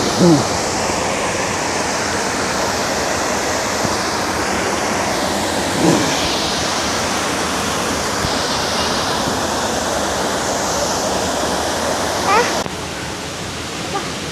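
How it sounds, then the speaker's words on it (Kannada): Abbi Falls near Sakleshpur drops water from 20 to 30 feet, a loud, close, unbroken roar of falling water that fills the whole stretch with steady rushing noise. "20 to 30 ಫೀಟ್ ಹೈಟಿಂದ ನೀರು ಬೀಳುತ್ತೆ"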